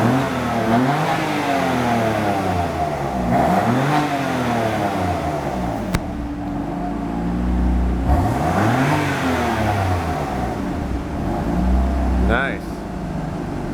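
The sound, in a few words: BMW M4 engine revving and accelerating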